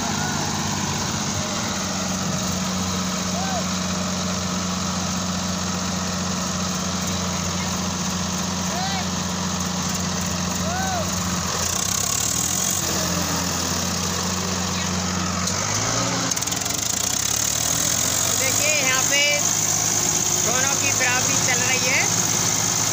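Two tractors, a Swaraj 744 XT (50 hp class) and a Sonalika DI 35 (39 hp class), idle and run steadily with a continuous low diesel drone outdoors, engine tone shifting partway through while someone talks over it.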